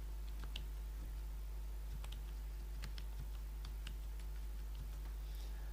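Someone types a file name on a computer keyboard: scattered light key clicks in an irregular rhythm over a steady low electrical hum, moderately quiet and close.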